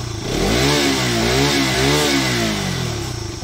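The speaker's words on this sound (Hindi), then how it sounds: "अब थ्रोटल देके दिखा देते हैं एक बार।" An RS 200 motorcycle exhaust roars as the throttle is blipped, its revs rising and falling in a few smooth swells that hold close and loud throughout.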